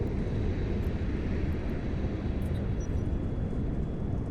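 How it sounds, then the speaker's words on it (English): A spaceship's afterburner in EVE Online gives a constant, loud, low rumbling roar that holds steady and close for the whole stretch, without any voices. "Oh, I forgot to take off the afterburner."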